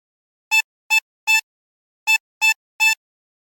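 Harmonica plays the opening phrase of the Squid Game theme: six short, clean reed notes in two groups of three, with a brief pause between groups and nothing else audible.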